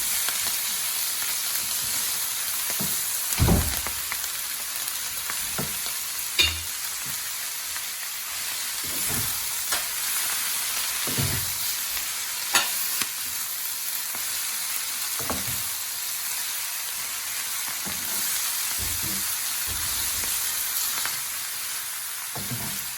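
Fenugreek leaves sizzle in a hot pan for Methi Saag with aubergine, a constant frying hiss broken by periodic scraping stirs, close and without voices.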